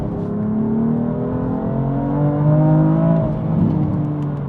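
A BMW M4 Competition engine revs and accelerates, its pitch climbing through gears in a steady whirring drone heard from inside the car.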